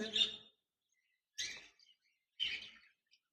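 A pair of lutino red-eye budgerigars in a cage give three short, bright chirps spaced about a second apart, close and fairly quiet, with silence between calls.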